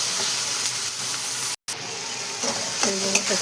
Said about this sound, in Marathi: आणि टमाटो पण छान असं परतून घेणार आहे. आणि बघा इथं थोडा कढीपत्ता टाकून घेतला.